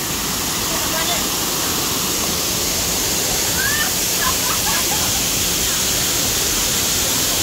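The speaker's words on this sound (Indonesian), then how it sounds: "Ya, air terjun Pancuraji." Pancur Aji waterfall in a forest setting, its water rushing in a steady, loud, unbroken roar, with faint bird calls and chirps rising briefly above the torrent.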